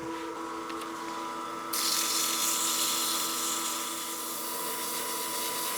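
Sandpaper held against a small wooden bat house ornament spinning on a lathe, a steady hiss joining the constant motor hum partway through and continuing evenly.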